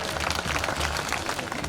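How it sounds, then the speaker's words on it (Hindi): A crowd at a minister's public meeting in Sagar applauds steadily, dense continuous clapping filling the space at close range with no pause. "बजाओ तालियां।"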